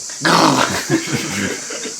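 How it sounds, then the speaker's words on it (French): An unhappy dog growling outdoors during a cycling trip: a loud, close rumbling growl that breaks into shorter uneven pulses and whimpery bursts over steady background noise. "Regardez, il est pas content. Il grogne un peu."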